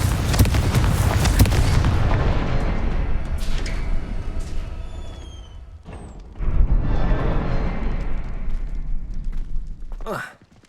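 The Confringo fire spell blasting in Hogwarts Legacy, a loud booming explosion with a rumbling tail, a second heavy burst midway and a sharp crackle at the end.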